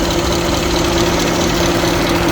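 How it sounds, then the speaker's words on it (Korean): Engine bay of a 2017 Genesis EQ900 5.0L with 90,500 km, the engine fan spinning at idle: a steady, loud whirring hum with constant low tonal drone and broadband rush, unbroken throughout. "엔진 판 돌아가는 소리입니다."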